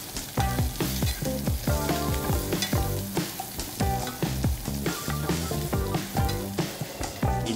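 Leeks stir-fry in hot oil in a pan, a bright crackling sizzle punctuated by rhythmic tossing and spatula scrapes, close and fairly loud with no speech.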